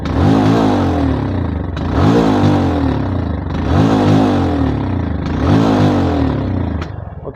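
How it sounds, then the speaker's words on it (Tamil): A fuel-injection motorcycle engine idles unevenly, its revs rising and falling in roughly three slow surges over several seconds, loud and close with a steady mechanical clatter and no voices. "ஐட்லிங் பார்த்தீங்கன்னா ஏறுது சர்றன்னு நடங்குது"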